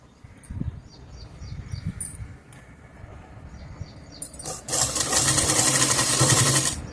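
A sewing machine stitches a zipper pocket onto a pair of pants, starting with soft clicks and handling noises, then running in a loud, steady mechanical whir for the last couple of seconds, close by, with no talking.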